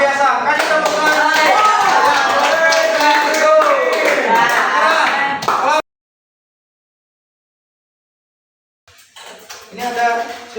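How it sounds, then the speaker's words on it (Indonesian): Students applauding in a classroom after a group presentation, dense and loud clapping for about six seconds, then silence, followed by a few scattered claps and voices. "Kasih tepuk tangan."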